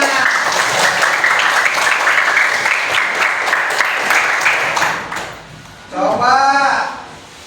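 Classroom applause from students, a steady wash of clapping that fades out after about five seconds, followed by a short burst of voices.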